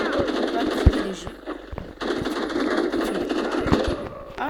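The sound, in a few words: gunfire from a weapon in a video game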